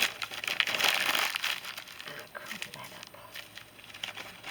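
Glossy magazine pages crumpled up close to make a spray paint texture for planet artwork, a dense crackling crinkle that rises and falls over several seconds with no talk.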